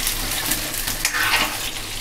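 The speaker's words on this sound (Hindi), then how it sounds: "हम इसे अच्छे से मैश कर लेंगे।" Tinda cooking in a pan with garlic and green chillies gets mashed and stirred, a continuous soft sizzle mixed with scraping and stirring sounds close up, with no talking.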